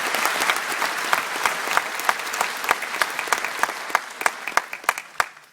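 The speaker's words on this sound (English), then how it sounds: "I'm going to ask you to give the band a round of applause to thank them for their contribution so far" An audience at a citizenship ceremony in the Dublin Convention Centre applauds an army band, sustained crowd clapping that thins toward the end into a few loud, separate claps.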